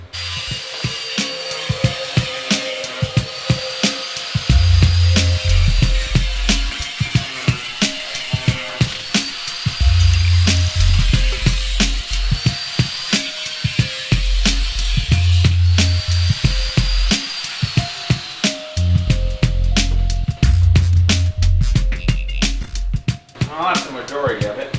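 A power tool grinds and cuts rusty rocker panel metal on a Cobalt SS, running in repeated loud bursts with ratcheting, rattling pauses between them and a voice talking at times over the work.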